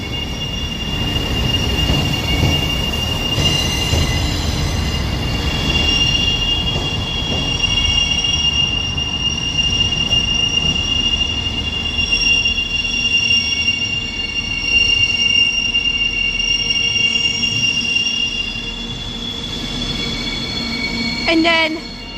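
Transport for Wales class 158 diesel train moving through Birmingham New Street station, wheels squealing in long high-pitched screeches over a steady rumble, with a person talking over it.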